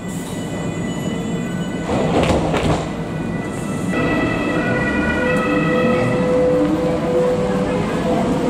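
Nuremberg U-Bahn subway train in motion, heard from inside a car: a steady loud rumble with whining tonal drive hum and a brief burst of clattering around the middle, running continuously throughout.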